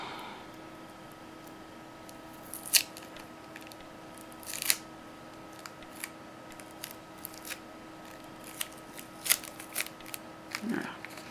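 Scissors snip a few times during nail art work, giving short, light cuts scattered among soft handling noises against a quiet background.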